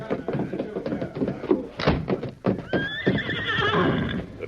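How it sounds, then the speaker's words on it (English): Horses whinny loudly and hooves clip-clop in an old-time Western radio drama scene, with a door thudding partway through and faint voices mixed in among the animal sounds. "Me bring horses round back."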